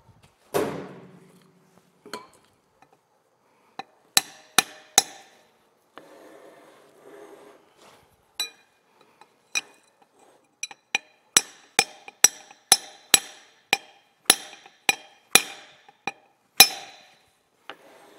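Sharp metallic taps of a hammer striking small brass taper pins, sparse at first and then a quick run of ringing blows, close by with no talking.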